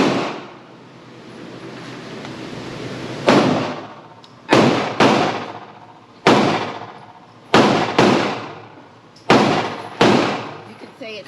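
Seven loud, close pistol shots from a Pioneer Arms Hellpup in 7.62x39 at an outdoor range, each sharp crack trailing into a decaying echo, fired at irregular intervals of about one to two seconds after a quieter stretch.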